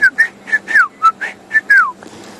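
Shelley's francolin giving its rhythmic whistled call in the African bush, a close, clear sequence of about eight notes with some longer downslurred phrases, heard alone.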